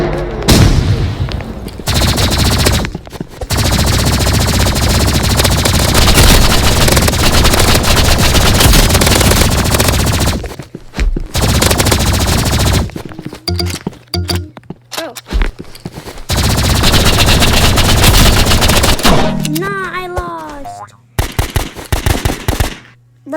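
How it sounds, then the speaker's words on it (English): Loud, sustained gunfire from a Roblox shooter game with energy pistols and an AR, long dense bursts separated by short gaps, ending in scattered single shots with little talk. "why are you shooting my dead body"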